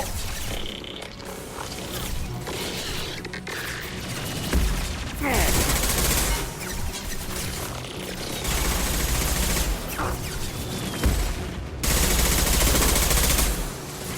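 Gunfire in Mass Effect 2 during a firefight, with repeated bursts and heavy sustained volleys rising and falling over a steady loud battle background; faint speech may sit underneath.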